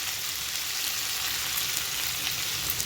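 Boiled black-eyed peas frying in a hot pan with chilli powder, salt and coriander powder while being stirred, giving a steady, close sizzle throughout with no voices.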